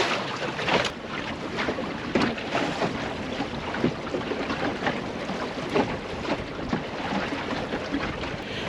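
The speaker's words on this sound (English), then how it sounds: "So I'm going to sail over to Mount Edgecombe, which is up ahead of me" Water rushes and splashes steadily past the hull of a Welsford Navigator sailing dinghy while wind buffets the microphone; no one speaks.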